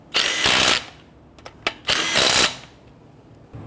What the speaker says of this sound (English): When tightening down the lug nuts, you want to do it in a crisscross pattern.